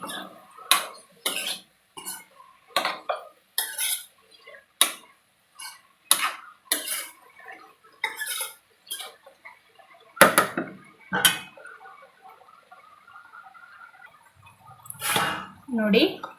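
A spatula scrapes and knocks against a pan while Malnad-style pepper chicken masala is stirred and fried, giving repeated sharp clattering strokes in an irregular rhythm, close and fairly loud, with a brief sizzle near the end.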